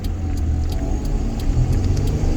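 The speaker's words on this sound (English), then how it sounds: "Trying to get out in this traffic is nuts." Subaru Impreza car driving through busy traffic, a close steady engine rumble with road noise that swells slightly toward the end, with faint ticking clicks above it and no talk.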